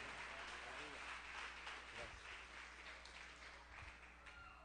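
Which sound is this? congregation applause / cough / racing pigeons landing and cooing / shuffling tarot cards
congregation applause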